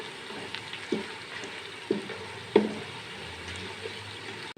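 Black cardamom, star anise and bay leaves frying in hot ghee, a quiet steady sizzle with a few sharp stirring clinks and scrapes spaced about a second apart, close up, no voices.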